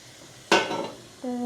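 Hot vaghar tempering poured into dal, a sudden burst of loud sizzling that fades over half a second, followed by a metallic clink of a pot or ladle.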